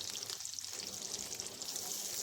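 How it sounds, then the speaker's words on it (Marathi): Garlic cloves, green chillies and onion sauté in hot oil in a wok, giving a steady, bright sizzle that crackles continuously without a break. "तेलात आपल्याला लसणाच्या पाकळ्या, मिरच्या आणि कांदा परतून घ्यायचा आहे."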